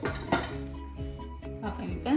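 A lid goes onto a cooking pot of Rasavalli kali made from purple yam, with a couple of short metallic clinks and a rattle near the start and end, partly under a voice.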